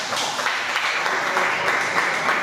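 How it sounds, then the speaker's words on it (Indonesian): A classroom group breaks into steady applause after a presentation, a dense wash of clapping hands with little else audible. "Oke, kita kasih tepuk tangan dulu ya."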